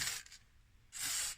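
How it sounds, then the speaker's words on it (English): Two short hissing bursts of aerosol dry PTFE lubricant spray onto a bike part, the first brief, the second longer and steady, with a quiet pause between them. "just another little spray on that"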